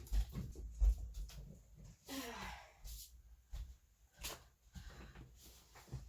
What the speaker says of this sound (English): Oh, little puppies, you gotta love them.